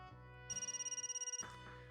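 A phone rings in a video game, a short electronic ringtone with a rapid pulsing warble that lasts about a second, clear and alone over quiet background music.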